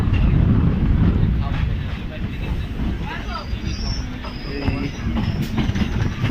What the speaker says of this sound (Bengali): এইমাত্র আবার ট্রেনটা ছেড়ে ছাড়লো